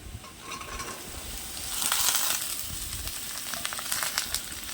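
Onions and chopped pointed gourd fry in a pan for a Bengali bhaji, with a steady close sizzle and hiss, brief scraping stirs and a louder surge of frying midway.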